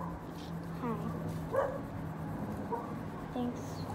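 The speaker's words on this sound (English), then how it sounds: "I'm sorry for the barking dogs." Dogs bark and yip in the background, a few short barks and whimpers scattered over several seconds beneath people talking nearby.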